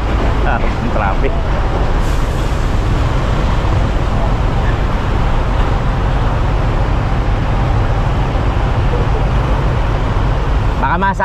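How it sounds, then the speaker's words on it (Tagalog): Steady, loud roadway traffic rumble fills the whole stretch, a continuous wash of passing vehicles near and far in a Philippine town, with a brief voice at the start. "Traffic."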